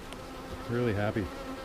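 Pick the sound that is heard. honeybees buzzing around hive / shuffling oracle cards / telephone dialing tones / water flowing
honeybees buzzing around hive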